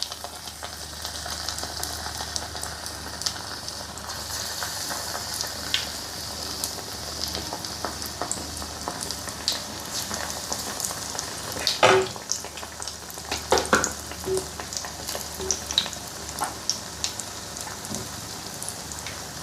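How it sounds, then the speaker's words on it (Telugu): Plantain bajji, slices dipped in batter, frying in hot oil with a steady dense sizzle and crackle throughout, occasional sharper pops and stirring clinks, close and even. "అరటికాయ చూడండి, ఈ విధంగా ఫ్రై చేసుకున్నాం"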